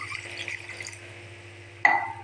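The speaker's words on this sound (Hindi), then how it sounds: "इसके अंदर 1 गिलास पानी ऐड करती हूँ।" A glass of water is poured into a pan of cooking aloo matar curry, heard as a quiet low simmering bed followed by a sudden close splash and gush near the end.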